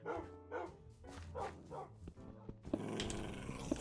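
A dog in the video game From Ashes: Reborn barks several times in quick succession, close and fairly loud, then gives way to a dense wash of game noise with a couple of sharp clicks.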